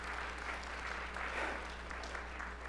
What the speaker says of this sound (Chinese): 我们拍手来欢迎我们的小姐妹